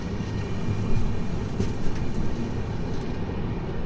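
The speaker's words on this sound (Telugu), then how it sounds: "దాని ముందర కరువు అయితే తీసుకుంటుంది మన ట్రైన్" Sabari SF Express rounding a curve, a continuous loud rumble of wheels and carriages with faint rail clicks, heard steadily from inside the moving train.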